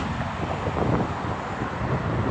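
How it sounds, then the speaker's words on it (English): Steady wind at the water's edge in London buffeting the microphone, a constant rumbling roar with no breaks, close and fairly loud, with no voices heard. "It's going to get a little bit windy because we're near the water edge."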